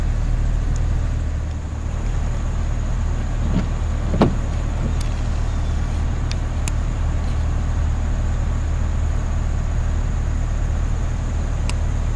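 A truck drives along a road, heard from inside the cab as a steady low engine and road rumble, with a few faint clicks and rattles.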